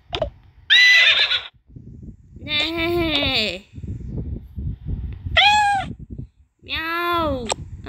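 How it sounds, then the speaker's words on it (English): A cat in the Toca Life World video game gives a few high, drawn-out meows spaced across several seconds, mixed with whinny-like animal calls and quiet speech underneath. "Meow. Kitty cat."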